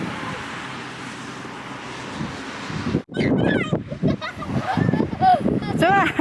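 Heavy wind buffets the microphone in loud, rumbling gusts, with a brief dropout midway, followed by people talking over the continuing roar.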